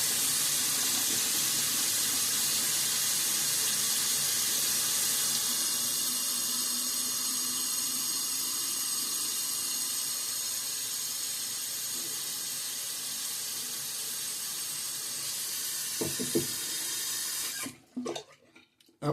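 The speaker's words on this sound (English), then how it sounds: "I just got to fill up the basin with water." Tap water runs steadily and hisses as it fills the outer basin of a Phoenix shave scuttle, a continuous close splash that stops abruptly near the end and is followed by a few small clinks.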